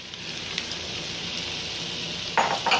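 Jambalaya ingredients sizzle steadily in a nonstick pot, a constant close frying hiss with a few faint clicks and a brief louder stir of utensil noise near the end, no voices.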